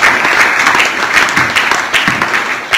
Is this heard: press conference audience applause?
yes